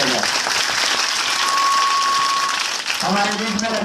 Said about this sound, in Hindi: इनके लिए जोरदार एक बार ताली से स्वागत किया जाए